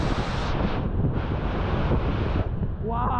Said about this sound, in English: you get soaked if you're standing this close to the waves, folks. But look how intense that is in there.